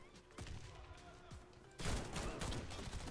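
Gunfire in a video game, pistol shots and a sudden heavy burst of fusillade in the second half, with a player talking over the game sounds.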